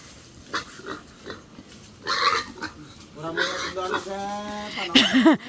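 A pig at a village fiesta in the rural Philippines gives a few short grunting oinks and squeals, with loud squeals near the end, while people talk nearby.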